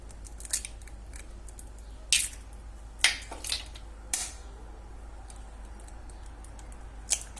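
Several sharp, isolated cracks of eggs being broken into an oiled pan, spaced a second or so apart against a quiet kitchen background.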